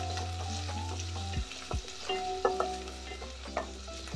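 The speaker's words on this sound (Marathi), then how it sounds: "कांदा आणि कढीपत्ता जो राहिला होता तो आपण ह्याच्यामध्ये ॲड करायचा. हे व्यवस्थित सगळं फ्राय करून" Onion and curry leaves fry in a pan for Mangalorean Shetty-style dry chicken sukka. There is a close, loud sizzle with stirring scrapes and clinks, and no voices are heard.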